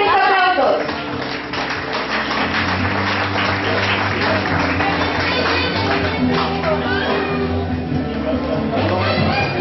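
An audience applauding at a school graduation ceremony, sustained clapping from a crowd that holds steadily throughout with a low hum beneath.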